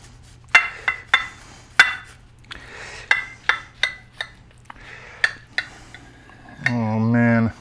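A knife cuts through a big biscuit breakfast burger on a plate. Close, sharp clinks and scrapes of metal on dishware come in an irregular series, and a brief voice is heard at the end.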